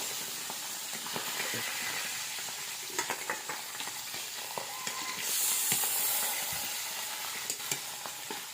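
Fish fries in hot oil over a wood-fired stove in a steady, close hiss and crackle, with occasional scrapes and taps and a brief burst of stronger sizzling midway.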